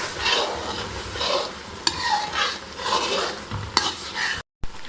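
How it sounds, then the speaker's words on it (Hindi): Carrot halwa being roasted and stirred in a wok to dry off the remaining milk. A spoon scrapes steadily in rhythmic strokes through a soft sizzle, with a few sharper clinks against the pan and a brief dropout near the end. "बस थोड़ा सा मैं इसे भूनूंगी ताकि इसके अंदर जो थोड़ा बहुत दूध रह गया वो भी खुश्क हो जाए।"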